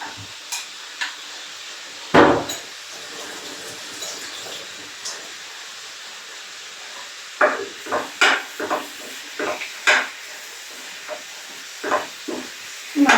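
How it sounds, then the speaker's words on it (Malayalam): Ginger-garlic paste sautés in a pan for a beef curry, giving a continuous soft sizzling hiss broken by scattered spatters and light scraping clicks from stirring. "ഇഞ്ചി വെളുത്തുള്ളി പേസ്റ്റ് ഒന്ന് അടിച്ചു വെച്ചേക്കുന്നു അത് നമുക്ക് അതിലോട്ട് ഇട്ട് കൊടുക്കാം"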